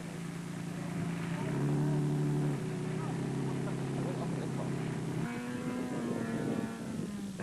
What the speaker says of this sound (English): To slow over the sand, and you get stuck and rev,